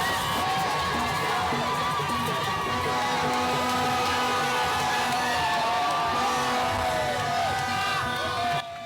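A large outdoor crowd cheers, whoops and shouts continuously as Chad's president, General Mahamat Idriss Déby Itno, greets people at the exit of an aerodrome during a national tour; many overlapping voices and whistles stay loud throughout.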